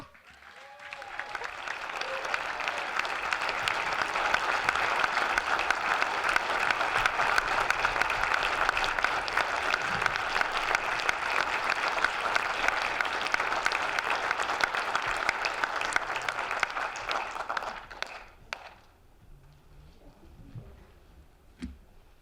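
An audience at a community arts awards ceremony applauds its honorees in one long, even, dense burst of clapping that lasts about eighteen seconds, then fades to a quiet room with a few last claps.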